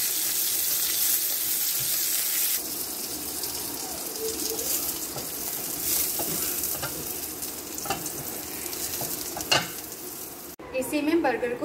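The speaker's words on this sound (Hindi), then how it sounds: "अनियन को ग्रिल करना है" Onions grilling on a hot pan for a smash beef burger give off a steady, close sizzle with intermittent stirring and scraping, plus a brief burst of running water near the end.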